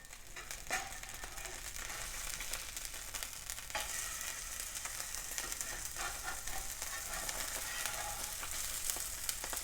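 Salmon searing skin-side down in a pan gives a steady, soft sizzle and crackle, even and uninterrupted, fairly quiet with no talking.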